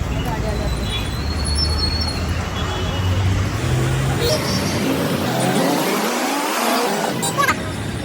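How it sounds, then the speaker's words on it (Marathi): A car pulls up at the roadside parking area, its engine and tyre rumble rising over steady traffic noise; voices murmur faintly in the background. "गाडी आली गाडी आली"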